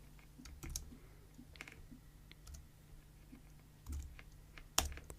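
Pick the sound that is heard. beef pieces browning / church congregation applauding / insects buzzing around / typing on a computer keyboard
typing on a computer keyboard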